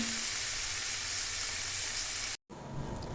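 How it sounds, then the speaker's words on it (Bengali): Ginger paste and cumin powder sautéing in a pan with a little too much water, a loud, steady sizzle and hiss throughout, briefly cut off near the end before resuming, with no talk. "আদা বাটা দিয়ে দিয়েছি জিরে গুঁড়ো দিয়ে দিয়েছি জলটা একটু যদিও বেশি হয়ে গেছে কিন্তু চলো কষিয়ে নিই"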